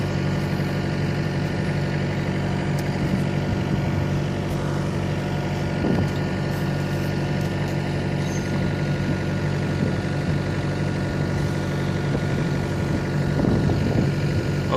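A compressor engine runs steadily outdoors near an excavator under repair, giving a constant, loud mechanical drone with a low hum and a few faint knocks and rattles, and no speech.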